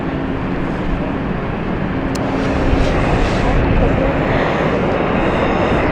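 An airliner in a Guernsey-based livery at London City Airport gives a loud, continuous roar of jet engine noise that holds steady throughout with a slight swell toward the end; a voice talks over part of it.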